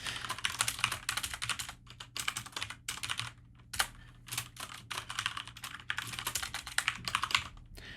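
Rapid bursts of typing on a computer keyboard while writing code, close and clicky with short pauses between runs of keystrokes.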